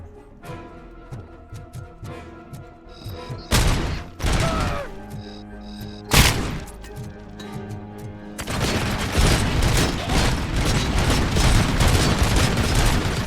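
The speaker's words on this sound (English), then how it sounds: "That is a big gun, I think. That's like a machine gun placement thing." A mounted machine gun emplacement firing in the video game RoboCop: Rogue City: a few heavy booming blasts give way to a dense, sustained roar of rapid fire, loud and close, layered over droning game music.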